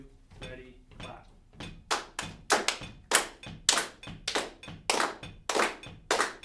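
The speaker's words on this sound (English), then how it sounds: "Can we clap the first measure real quick?" A group of people clap a rhythm together, a run of sharp, distinct claps in a syncopated pattern with off-beats, close and fairly loud in a music class.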